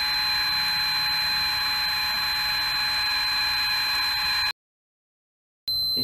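A water leak sensor alarm on a Bulldog Valve Robot shutoff system: a loud, steady electronic tone with shrill harmonics sounds continuously, cuts out abruptly for about a second, then starts again.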